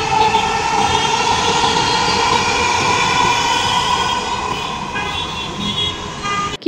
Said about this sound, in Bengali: আমি যে ক্যামেরাটা ধরছি সাথে সাথে একটা ট্রেন চলে আসছে